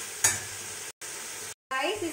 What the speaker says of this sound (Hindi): तो मेरा पनीर फ्राई हो गया है